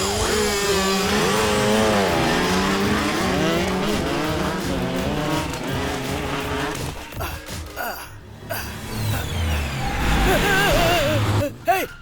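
A motorbike races fast along a road, its engine whining and rising in pitch, loud and close, then cutting out into brief bursts and a skidding, screeching finish.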